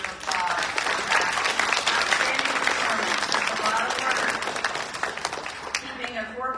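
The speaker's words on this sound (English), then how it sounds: "let's give them another round of applause" Audience applause fills a graduation ceremony at Charter College in Wenatchee, a steady dense roar of clapping hands from a large crowd that holds for several seconds before starting to thin at the end.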